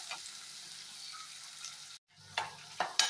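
Onions sauté in a pan with a soft, steady sizzle, broken by a brief silence and then a few light scraping stir sounds near the end.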